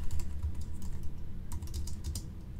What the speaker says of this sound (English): Oh, just typing away.